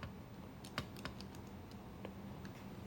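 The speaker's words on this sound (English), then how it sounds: "when you type this on the calci, even I'm doing it" Keys tapped on a calculator while working through a statistics exam problem: a handful of sharp, light clicks spaced irregularly over a quiet room hum, with no talking.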